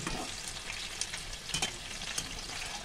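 Green chillies fry in hot oil beside potato and gram flour balls, a close, continuous crackling sizzle with a few brief pops and stirring scrapes.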